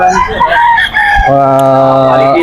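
Roosters crow loudly and close by at a busy early-morning chicken market in Bocaue, Bulacan, one drawn-out crow sounding clearly over mixed clucking and general bustle.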